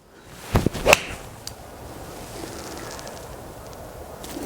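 A sharp crisp strike of a golf iron hitting the ball, followed by a fading whoosh, then steady outdoor wind noise.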